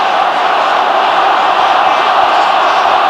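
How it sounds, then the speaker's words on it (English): A rugby league Challenge Cup final crowd roars and chants in a dense, loud wall of voices, steady and continuous throughout, with no single voice standing out. "it's interesting to hear the rest of the crowd chanting off the pitch"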